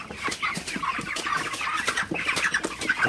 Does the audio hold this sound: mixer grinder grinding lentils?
no